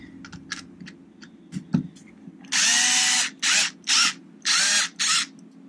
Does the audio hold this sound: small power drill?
yes